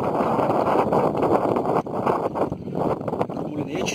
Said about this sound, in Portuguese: agora o vento veio de força mesmo